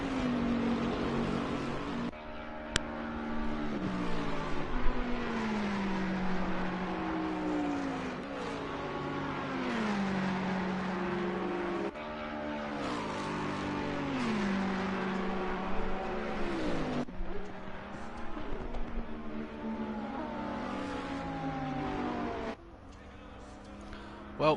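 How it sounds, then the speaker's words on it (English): Lexus, Ferrari and Bentley GT3 race cars battling in a racing video game at Paul Ricard, engines whining and shifting through repeated upshifts and downshifts, fairly quiet beneath ongoing commentary. "fight between a Lexus, a Ferrari and a Bentley"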